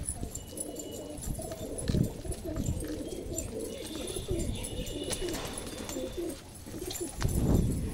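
A pigeon with glossy red-toned plumage coos in low, repeated throaty phrases, close and clear over a soft background, with no speech.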